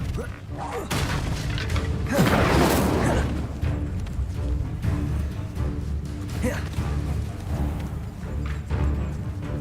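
An Incendio fire spell goes off in the Hogwarts Legacy video game, a roaring whoosh of flame that swells loud around the two-second mark over a busy rumble of mechanical creaks and combat noise.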